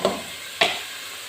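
Tomatoes frying in a pan for kaboli (pilao), a continuous close sizzle broken by two sharp bursts of hissing as the pieces are stirred or turned.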